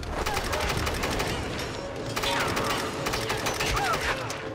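Rapid gunfire in the video game Tomb Raider, dense bursts of sharp shots in fast succession, fairly loud and continuous amid game effects, with a voice faintly present.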